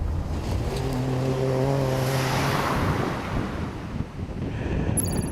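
A rally car at the Rally of Coimbatore in India, attacking turns and jumping over gravel: a loud engine drone passes with strong wind rush and gravel noise, then fades, and a sharp high clatter comes at the end.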